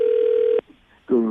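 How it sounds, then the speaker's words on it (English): A telephone tone from a phone call being dialed, a steady single pitch for about half a second that cuts off abruptly, followed by a short silence and then a voice speaking. "I just dialed, man."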